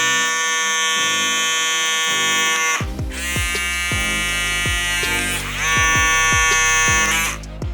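A Babyliss FX3 electric hair clipper hums loudly and continuously up close, with a few brief clicks and pitch dips as it's handled or switched.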